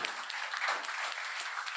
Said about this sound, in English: That definitely deserves a round of applause in my opinion